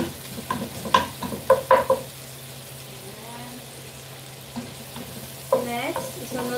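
Garlic sautés in a pan, a low steady sizzle with a few stirring clatters near the start and again at the end, and a voice talking briefly under the cooking noise.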